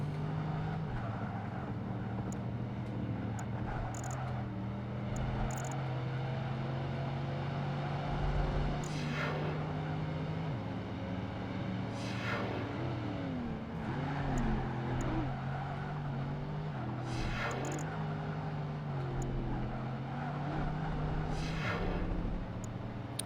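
A Lexus sports coupe in the racing video game Project Gotham Racing 2 drones along at steady engine pitch, with occasional swells and dips as it shifts and corners, plus brief tire and impact noises.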